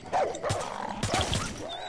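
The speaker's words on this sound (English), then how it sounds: "Fucking dog?" A dog in a PS4 video game barks and yips in a few sharp bursts, close and fairly loud, with brief whimpering tones between them.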